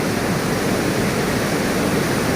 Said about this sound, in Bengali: আর এখানে প্রচণ্ড আওয়াজ জলের